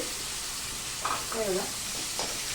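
Tomatoes cook in spiced oil with a little coriander for a potato-tomato curry, giving a faint, steady sizzle as they are stirred, with a brief quiet voice in the middle.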